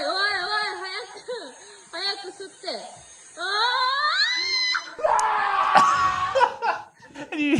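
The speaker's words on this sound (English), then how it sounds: "you hear him just full yell, scream as loud as he can" A man screams at the top of his voice while trying to vacuum up a spider, with high wavering yells and laughter rising into a loud, harsh shriek near the end.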